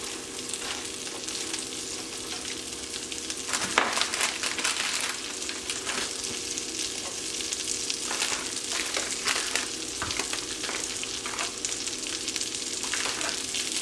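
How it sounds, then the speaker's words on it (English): Steady, close sizzling and crackling of green beans frying in butter in a hot pan, continuous with a few brief louder pops. "Listen to that sizzle."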